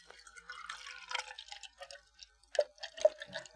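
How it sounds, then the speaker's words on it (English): Coffee being poured into a cup, a faint liquid trickle with scattered drips and small splashes, heard alone without talk. "Let's get a nice pour. Let's get a nice pour here."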